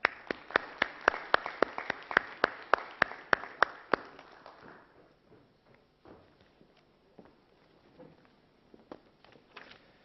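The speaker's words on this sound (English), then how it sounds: "But if you can just give him a round of applause for Energy Minister, Mr. Silvan Shalom." An audience at an oil-independence event applauds the energy minister with a run of sharp, evenly timed claps for about four seconds, then fading into scattered faint taps and room noise.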